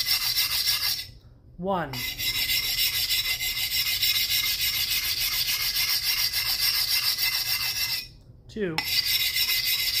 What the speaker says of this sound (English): just move that axe blade along the whetstone